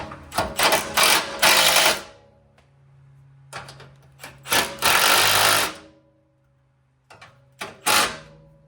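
An impact wrench removes 12 mm bolts on a Toyota 4Runner during an oil change, producing several loud rattling hammering bursts close by with quiet gaps between them.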